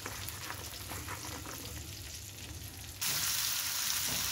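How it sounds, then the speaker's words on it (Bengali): Prawns fry in a pan with a continuous crackling sizzle that swells noticeably louder and brighter partway through, with no voices. "চিংড়ি মাছগুলো এখন ভেজে নিচ্ছি, ভালো করে ভেজে নেব"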